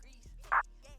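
Single clap from a regular clap pattern in an FL Studio plugg-style beat, one short snappy burst landing over a low, dark beat playing underneath.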